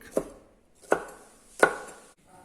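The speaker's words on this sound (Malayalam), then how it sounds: "പച്ചമുളകെല്ലാം നമ്മൾ അരിഞ്ഞു കഴിഞ്ഞു." A knife chops green chillies on a cutting board in three sharp, evenly spaced strikes, close and clear, with no one speaking.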